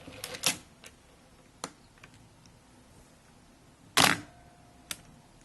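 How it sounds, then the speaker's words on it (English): An Olympus film SLR camera gives a few mechanical clicks and ratchets as the film is wound on, then one louder, longer winding burst, each sound close and crisp against near silence. "We'll wind on the film."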